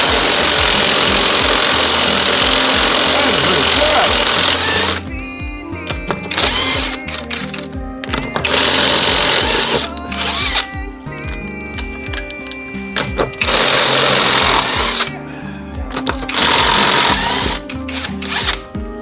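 A cheap Temu power tool, likely an impact wrench, spinning off a car wheel's lug nuts: loud, harsh buzzing bursts that start and stop repeatedly, with brief pauses between runs.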